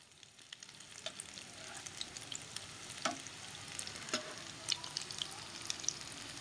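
Potato and egg kebabs fry in a pan with a soft, steady sizzle, broken by faint pops and crackles and occasional louder spatters, with no talking.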